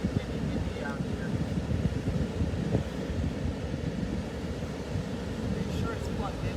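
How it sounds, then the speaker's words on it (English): Outdoor wind rumbles and buffets the microphone steadily throughout, a dense low roar with faint voices in the background. "It's kind of windy out here."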